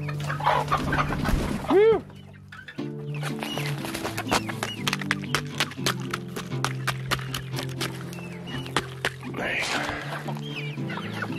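Chickens on a winter farm in Norway cluck and chatter steadily nearby, with a short shout of a voice early on and scattered scratching and pecking sounds.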